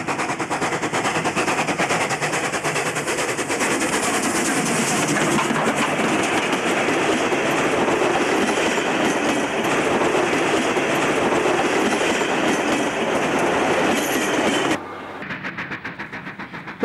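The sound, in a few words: steam train passing, Mudgee to Lithgow passenger, New South Wales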